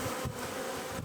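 Honeybees swarm and hum densely at a strong, well-stocked hive holding male drones, a steady close buzz that fills the whole moment without pause.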